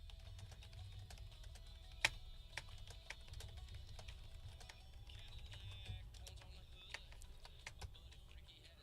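Someone types steadily on a computer keyboard, a run of quick, light clicks and taps with one sharper hit, over a low rumbling background hum.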